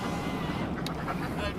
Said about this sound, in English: let's just say hello to the ducks here real quick